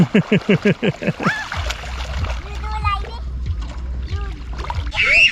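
A dog splashes about in shallow water near a beach, with a child and an adult talking over it and a steady low rumble running underneath the splashing.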